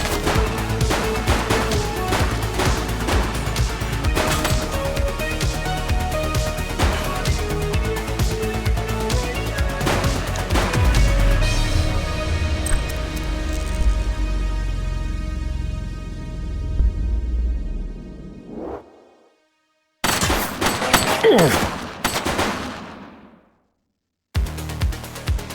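Enemy gunfire in the police video game The Precinct: rapid, sharp, repeated shots and crashing impacts over a dense backdrop, cutting off into silence and returning in brief bursts.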